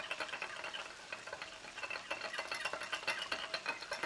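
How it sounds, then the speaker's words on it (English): Tofu and noodles are stirred in a hot pan, giving a faint, quick run of scraping and soft sizzling clicks at a steady, busy rhythm. "Stir that. Stir this."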